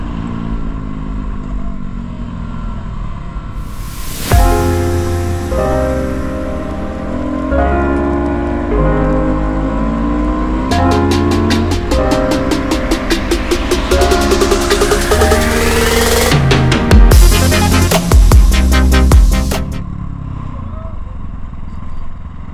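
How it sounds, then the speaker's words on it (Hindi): An Apache motorcycle fitted with an aftermarket Akrapovic exhaust revs loud and close while riding, its engine note climbing through repeated gear changes with sharp bursts of throttle. "So he is Abhishek and he owns this Apache and he has a, you know, Akapo which exhaust in this bike"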